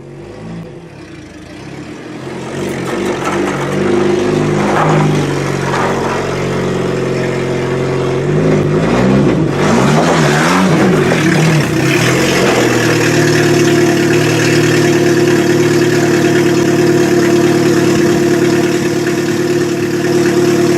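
A 2002 Pontiac Sunfire 2.2 SFI engine runs with its oil drained, loud and close, rising from idle into steady revving with rough, strained bursts midway before settling into a sustained drone.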